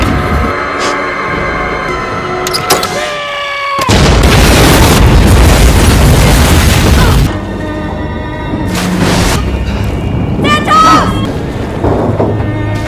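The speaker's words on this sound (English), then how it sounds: "Greer has started the engine, triggering a massive explosion that completely destroys the Arctic Warrior" A ship's engine on the Arctic Warrior is started and sets off a massive explosion, a sudden loud roaring blast lasting several seconds, in a horror film scene with tense sounds before and after.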